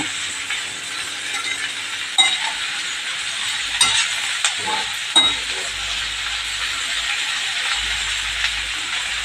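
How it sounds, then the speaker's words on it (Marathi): Sliced okra stir-fries in a pan, a steady sizzle broken by a few sharp clinks and scrapes of a spatula against the metal. "आता आपली ही भाजी पण छान परतून घेतली आहे"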